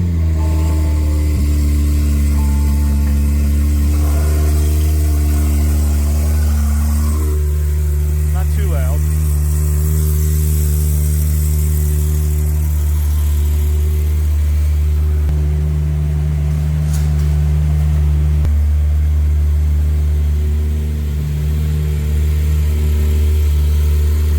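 A Speed Yellow Porsche 996 engine runs after a cold start, a loud, deep, steady idle with a low rumble and slight shifts in pitch throughout, with voices heard over it at times.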